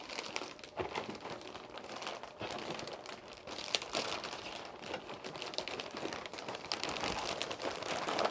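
Thick plastic crinkles and rustles continuously up close as a bag is handled, with crisp crackling bursts and no talking.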